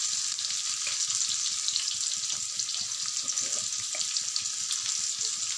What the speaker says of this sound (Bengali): একটু ভাজবো, লাল লাল করে ভেজে নেব।